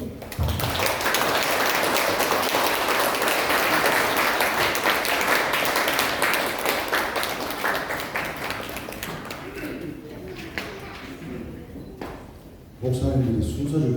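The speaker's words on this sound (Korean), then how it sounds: "큰 박수." Enthusiastic applause rings out through a Korean church congregation at a deaconess ordination thanksgiving worship service, a dense, sustained clatter of many hands that slowly thins toward the end before a brief renewed burst.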